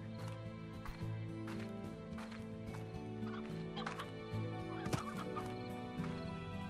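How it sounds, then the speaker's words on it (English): Chickens in the Slime Rancher video game cluck and squawk in short scattered bursts over a sustained musical background, fairly close and moderately loud. "there's a lot of chickens there"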